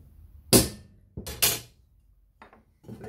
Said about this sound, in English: tap with hammer.